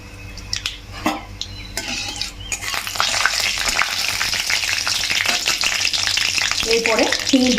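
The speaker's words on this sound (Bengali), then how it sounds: "তেল গরম হয়ে গেছে, প্রথমেই আমি জিরেটা দিয়ে দিচ্ছি" Cumin seeds, followed by mustard seeds, hit hot oil in a pan with a steady, loud sizzle and frying crackle. A few scattered clinks and stirring taps come first, then the hiss builds and holds to the end.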